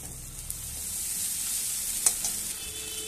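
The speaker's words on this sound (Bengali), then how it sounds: "এবার পেঁয়াজটাও দিয়ে দিয়েছি ভাজার জন্য, ভালো করে ভেজে নেব পেঁয়াজটা।" Onion frying in a pan with spices and ginger paste, a soft, steady sizzle with a couple of brief knocks as it is stirred, and no one talking.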